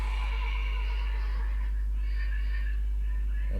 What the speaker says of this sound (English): Sounds of horses echo through the air.